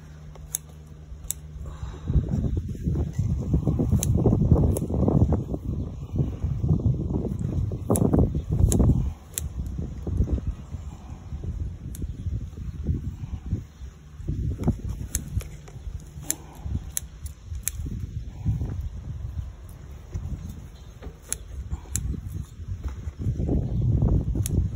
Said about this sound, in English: So much wind out here today.